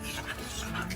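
A dog pants heavily and fast, with quick, rhythmic breaths heard close up. A faint voice may be present in the background.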